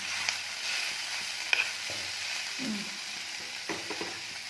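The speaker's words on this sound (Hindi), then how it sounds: "ये दूध फाड़ना है, नहीं फाड़ा है अभी, देखते हैं कि फाड़ना है" A spoon scrapes and stirs milk in a pan on the heat as it is brought to curdle, giving a soft sizzle with scattered light clinks, fairly quiet and with no voices.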